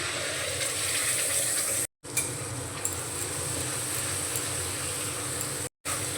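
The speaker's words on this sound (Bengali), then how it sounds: "এই যে কাজু ভাজা পেঁয়াজ আর লঙ্কার পেস্ট বানিয়ে নিয়েছিলাম ওইটা দিয়ে দিচ্ছি" Cashew, fried onion and chili paste hits a hot pan for a yogurt soybean curry, giving a steady, close sizzle of frying with light stirring, broken by two brief silent gaps.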